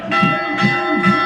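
A victory bell rung at a high school football game after a win, struck in three steady clangs about half a second apart, loud and close with ringing overtones.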